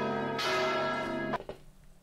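A large swinging church bell rings out in one loud, close, resonant stroke that hums for about a second before stopping abruptly, followed by a few dull clanks and knocks.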